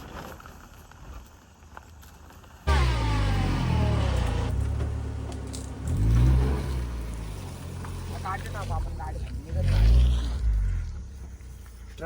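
A vehicle rolls up along a road with a loud engine rumble that swells and passes twice, under ongoing talk and outdoor noise.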